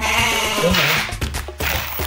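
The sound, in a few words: goats bleating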